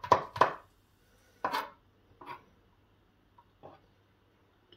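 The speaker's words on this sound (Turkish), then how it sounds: "biz de burada 2-3 diş sarımsağı doğrayalım" A few sharp knife chops on a cutting board cutting garlic cloves, two quick ones, then scattered single strokes with pauses between, close and fairly crisp.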